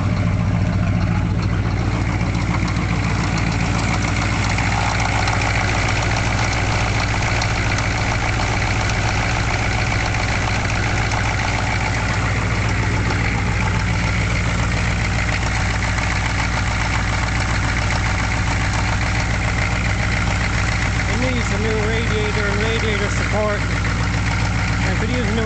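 A 1986 GMC Suburban Sierra Classic 4x4 with a 6.2 diesel idling cold, a steady, close clattering rumble throughout, with someone talking over it.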